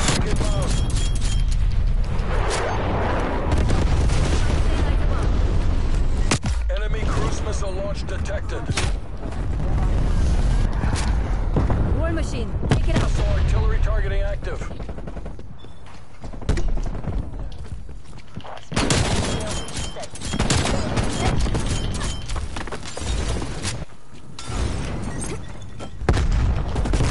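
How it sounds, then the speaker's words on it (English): Heavy artillery fire and explosions form a dense, loud, continuous barrage, with deep booms and bursts of rattling gunfire throughout and voices shouting at times. "Artillery."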